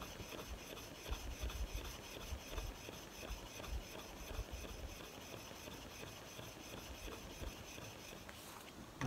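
A timber framing tool's bevel is sharpened by hand, giving a faint, steady rasping rub of steel on a stone, repeated strokes close by.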